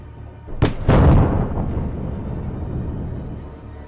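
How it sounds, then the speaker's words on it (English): A HIMARS missile strike on a Russian convoy, two sharp blasts in quick succession followed by a deep rolling boom that slowly fades, loud and distant-sounding. "HIMARS promptly delivered 2 strikes"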